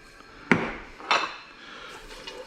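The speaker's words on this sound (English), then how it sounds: "we are going to heat this up, stirring and sauteing over low heat" A utensil stirs leeks sautéing in a pot over low heat, giving two distinct clinks against the pot followed by quieter scraping.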